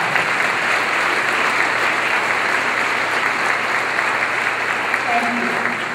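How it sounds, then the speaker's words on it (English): An audience applauds city council members at a State of the City address, a steady, dense wash of clapping that holds evenly from start to finish, with faint voices mixed in. "Let's give them a round of applause."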